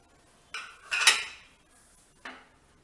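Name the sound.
roasted prawns mixed into pressure cooker biryani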